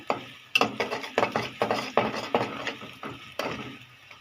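Potato fry (aloo bhaji) is stirred in a pan, with a steady run of about a dozen spatula scrapes and clinks over a low sizzle, close and with no voices.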